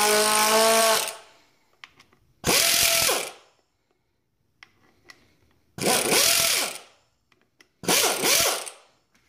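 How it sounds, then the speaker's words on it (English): A power tool spins out 12 mm fasteners from a Nissan Altima/Sentra power steering pump in four loud, whirring bursts about two seconds apart, each separated by quiet gaps with faint clinks. "let's go ahead and just remove these fasteners back in the back of here."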